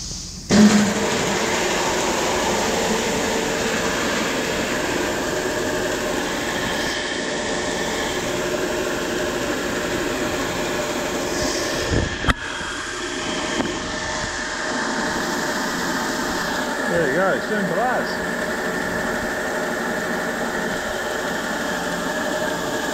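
Steady electric motor hum drives a grain auger and fan on a bin of wheat, a continuous even drone with mechanical whir throughout, with one brief knock partway.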